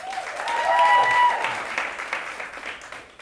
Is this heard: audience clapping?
yes